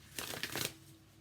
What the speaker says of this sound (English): we're going to use the Energy Oracle by Sandra Ann Taylor